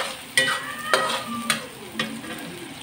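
Garlic sizzles in hot oil in a pan while being stirred, with several distinct scraping strokes about half a second apart over a steady frying hiss, heard up close with no talking, as the base for gisadong upo.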